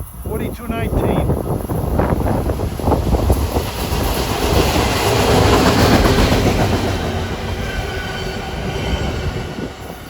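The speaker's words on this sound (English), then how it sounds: "we got an Atlantic City to Philadelphia train coming with a Jeep on the point" A short two-car Atlantic City to Philadelphia passenger train led by a locomotive rolls past nearby, loud rumbling wheels with clickety-clack and some squeal rising to a peak, with a voice briefly heard at the start.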